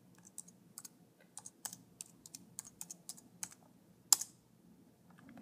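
Keystrokes on a computer keyboard while typing a search into a web browser: quiet, irregular clicks and short bursts of key presses over several seconds, with no talking.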